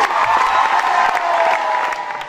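An audience at the closing of an arts camp week applauds and cheers its teaching team: dense, loud clapping mixed with whoops, holding steady and then easing off slightly.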